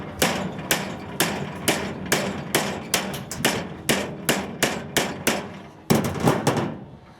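Sharp hammer blows ring on a dented trailer's tin body as it is beaten back into shape, about fifteen loud close strikes in a steady rhythm with a heavier hit near the end.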